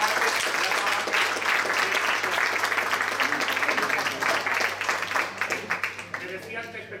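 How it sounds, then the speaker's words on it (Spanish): Sustained applause from a Benidorm audience fills the hall, dense and loud at first, then thinning into scattered individual claps as it winds down near the end. "para los cuales yo os pido un fuertísimo aplauso"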